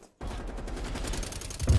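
Rapid blaster gunfire from a shooter video game, a dense sustained volley of shots lasting under two seconds and ending on a heavier burst.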